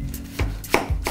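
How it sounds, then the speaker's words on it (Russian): A knife chops fresh washed apples on a cutting board, giving four or five sharp, close thuds in an uneven rhythm with no talking. "Яблоки помыли, нам необходимо будет их просто нарезать, удалить сердцевину"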